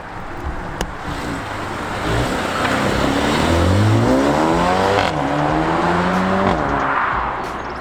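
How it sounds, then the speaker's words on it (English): A Mercedes-AMG A35 pulls away from a junction, its engine note rising loudly as it accelerates through the gears, with a brief dip between shifts before fading slightly into the distance. "that A35 AMG that I walked around earlier is leaving"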